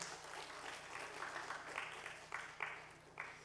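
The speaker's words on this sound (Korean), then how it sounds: "이럴 때 박수 좀 쳐주셔야지." Congregation in a Korean church service applauding after the pastor's urging, a soft, distant patter of scattered clapping with a few louder bursts toward the end, faint and thin.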